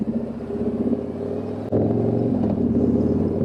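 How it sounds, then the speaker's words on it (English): Low, steady engine rumble from a gray 2022 Harley-Davidson Tri Glide trike while driving, droning close with a slight shift in pitch partway through and no talk. "Now, I am driving my 2022 Tri-Glide."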